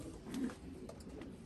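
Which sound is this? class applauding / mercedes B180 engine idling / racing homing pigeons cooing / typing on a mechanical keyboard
racing homing pigeons cooing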